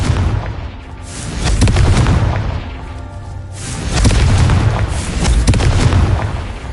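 A Confringo fire spell detonates in a Harry Potter video game duel, heavy booming blasts rolling out in loud surges, one around the start and another near the middle, with dense rumbling between.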